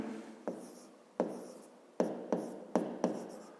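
A pen writes on paper in quick separate strokes, each a soft scratchy scrape close by, six of them in a few seconds with brief pauses between.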